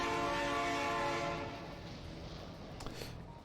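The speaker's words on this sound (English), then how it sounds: "It's a good time for a train noise." A steam-style train horn from the Factorio game sounds loud and sustained as a chord, then fades over a few seconds while the train rolls on with faint rumbling.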